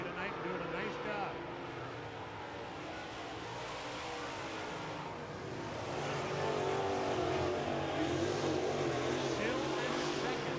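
Late model race cars racing on an oval track at night, a continuous engine roar from several cars that swells louder midway, with a race announcer's voice running over it.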